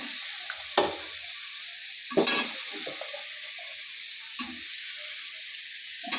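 Potatoes go into a pan of frying pigeon meat curry, giving a steady close sizzle and hiss broken by a few sharp stirring scrapes and clatters, with no talk.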